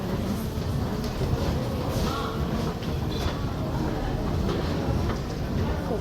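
Tehran metro subway train underway, a steady loud rumble and rolling roar that fills the whole stretch, with voices murmuring faintly underneath.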